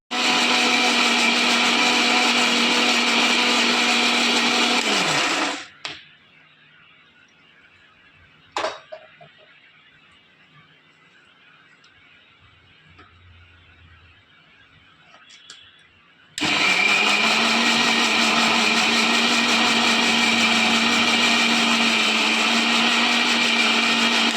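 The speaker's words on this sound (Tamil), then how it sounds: "ஒரு துண்டு புளியும் போட்டுக்கிறேன். போட்டு இது நைஸாக அரைச்சிக்கணும்." A mixer grinder whirs loudly as it grinds coconut chutney with a piece of tamarind, running for about five seconds, stopping into near-silence with a couple of clunks, then roaring back on at full strength.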